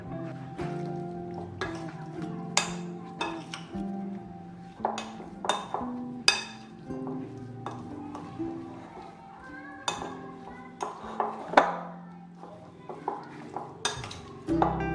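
Marinade ingredients with salt and red chilli being mixed in a bowl, producing repeated spoon clinks and scraping stirs against the bowl at an irregular pace, close by.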